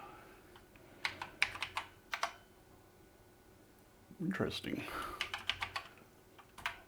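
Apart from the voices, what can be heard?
typing on BBC Master 128 computer keyboard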